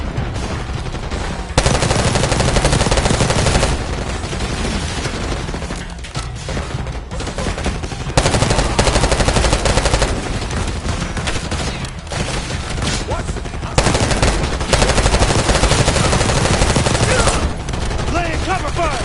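Call of Duty Black Ops 6 campaign combat with loud, sustained machine gun fire, dense rapid bursts that barely pause for 19 seconds, and scattered heavier booms in the mix.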